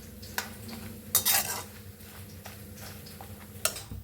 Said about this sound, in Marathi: खोबरं बी छान असं तळायचं